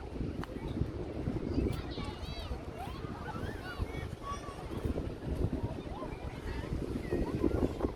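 Strong wind buffets the microphone of a Samsung Galaxy S20 FE (Snapdragon) phone recording outdoors, making a steady, loud low rumble with gusty surges throughout, and faint voices or sounds now and then in the background.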